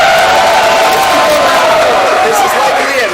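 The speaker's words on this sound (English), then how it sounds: "Crowd, let's send them off to one cheer." Dense crowd noise rises and sustains as spectators cheer to send off fighters at an armored combat tournament, a continuous roar with babble throughout.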